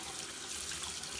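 Steady running tap water pours over a makeup brush being rinsed at a sink, a continuous close hiss and splash with no talking.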